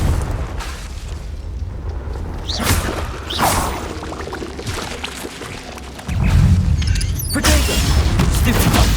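A Confringo fire spell cast in the Hogwarts Legacy video game, bursting with whooshes and booming blasts amid ongoing combat noise, with a deep rumbling explosion swelling near the end.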